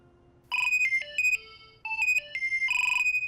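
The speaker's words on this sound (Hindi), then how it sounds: "फिर से अननोन नंबर से फोन आ रहा है।" A phone ringtone plays an electronic melody in short bursts with brief gaps, close and loud, announcing a call from an unknown number, no talking over it.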